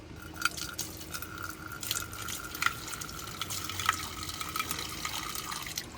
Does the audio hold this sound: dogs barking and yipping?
no